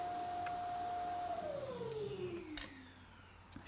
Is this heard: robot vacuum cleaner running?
yes